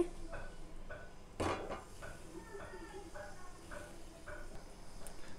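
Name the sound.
stirring fish curry with raw mango in pot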